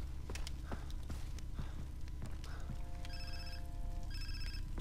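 A mobile phone rings in the video game Far Cry 3, two electronic ringtone bursts coming after a stretch of footsteps and clicks, all over a constant low background rumble.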